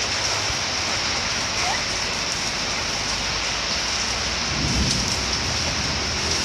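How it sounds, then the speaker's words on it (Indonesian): Steady rain pours down in a dense, unbroken hiss on surfaces nearby, loud and constant throughout, with a faint low rumble that may be distant thunder. "Masih hujan, Dek."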